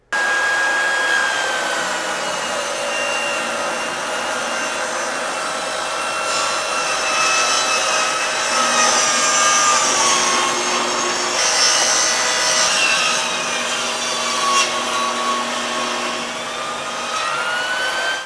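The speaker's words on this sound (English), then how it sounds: "I was ripping right at the edge of the lumber" A SawStop 10-inch compact table saw rips lumber with dust extraction running, giving a steady, loud whine of blade and extractor that holds for the whole stretch, with small swells as the cut bites.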